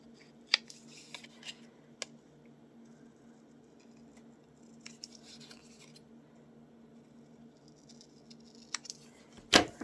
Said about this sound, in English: so I'll just cut these out